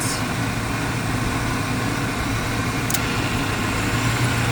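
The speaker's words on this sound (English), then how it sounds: "AC clutch, yes, it runs." A 1992 Ford Ranger's AC compressor clutch clicks in, then runs as a loud, steady mechanical drone over the idling engine, with a second brief click partway through.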